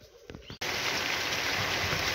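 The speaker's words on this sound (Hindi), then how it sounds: "तो अभी ना बारिश पड़ गई है बड़े ज़ोरों की" Heavy rain pours down outdoors in a hilly village, starting abruptly after a brief quieter moment and continuing as a dense, steady, loud hiss.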